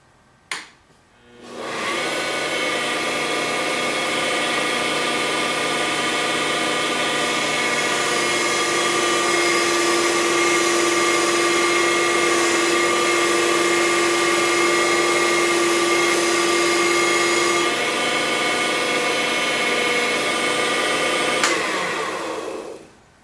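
A wood lathe spins up and runs while a 3 mm beading tool turns a bead on a chrome stylus, making a steady whirring hum with a tonal whine for about twenty seconds before winding down.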